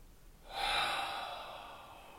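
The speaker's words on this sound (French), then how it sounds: "Allons-y pour une inspiration." A deep breath drawn in during a home calisthenics relaxation exercise: one long, airy inhale starts after a brief quiet moment, peaks, then slowly fades, close and clear with no talking.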